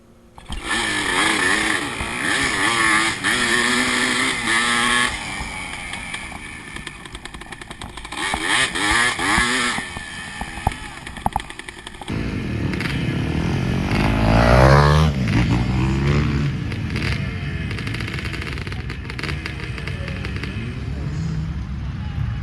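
A pack of dirt bikes, including a 1986 Yamaha IT 200, roars off the line at a scramble race start, loud engines revving and climbing in pitch together, after a stretch of idling and blipping throttles.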